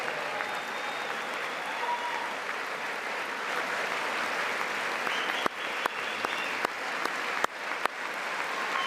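Broad, sustained applause fills the Congress chamber during a presidential address to a joint session, a dense wash of clapping from a large crowd, with a few sharp clicks near the end.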